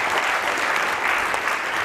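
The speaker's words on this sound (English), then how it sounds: "we just want to give them a round of applause for arranging such a great event" An audience at an education summit claps for the event organisers: dense, even applause from a large room, steady and moderately loud for about two seconds.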